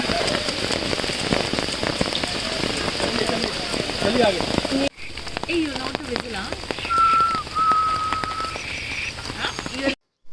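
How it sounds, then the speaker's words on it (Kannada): Heavy rain pours steadily and loudly on surfaces nearby, a dense constant hiss with scattered drops; a brief thin whistle rises partway through. "ನೋಡಿ ಎಷ್ಟು ಜೋರಾಗಿ ಬರ್ತಿದೆ ಮಳೆ."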